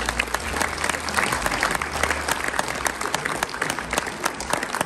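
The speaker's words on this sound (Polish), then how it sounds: "Wielkie brawa!" A crowd at a rural housewives' association awards ceremony in Czerwionka-Leszczyny gives loud, dense applause. Many hands clap continuously for about five seconds, with a low hum under the first half.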